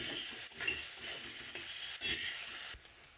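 Onion and nigella seeds sizzle steadily in leftover fish-frying oil, a dense bright hiss with faint stirring scrapes, close and loud, ending abruptly near the end.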